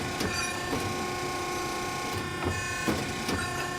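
A Piranha P-65 ironworker's ram travels with a steady mechanical hum and drone, punctuated by a few faint clanks, heard close and continuous with no voices.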